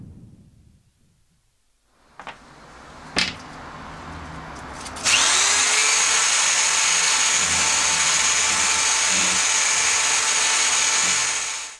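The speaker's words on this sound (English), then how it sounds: "And you can drill from both sides just to widen it a bit more." After a quiet start and a couple of clicks, a power drill whirs up and runs steadily and loudly, grinding into material as it widens holes.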